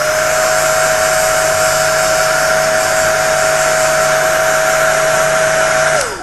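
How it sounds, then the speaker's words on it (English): A hair dryer runs steadily at close range, a loud even whirring blow with a constant pitched whine, winding down abruptly at the end. "I use a hair dryer, so that's what this noise is going to be."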